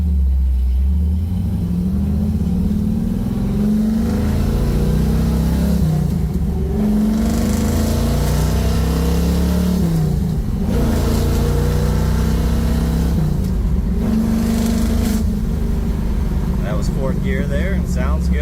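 A warmed-up 1967 Chevrolet Camaro engine revving up and dropping back repeatedly as it runs through the gears, a steady loud drone with rising sweeps under someone talking inside the car.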